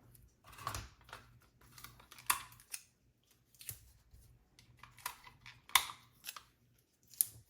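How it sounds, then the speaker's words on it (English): Tape being pulled and pressed to hold a piece of paper down, heard as scattered short crinkly rips and taps separated by near silence, close and fairly faint. "I'll tape it down so it doesn't move."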